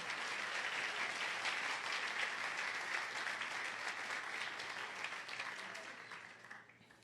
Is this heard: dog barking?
no